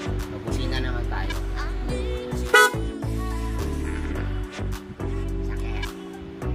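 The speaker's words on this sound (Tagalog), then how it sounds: "Busina naman tayo." A vehicle horn, tested after wiring a plug-and-play harness, gives several short, loud honks at irregular intervals, mixed with voices talking nearby.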